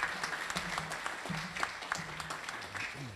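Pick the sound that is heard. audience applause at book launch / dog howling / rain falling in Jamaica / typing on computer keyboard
audience applause at book launch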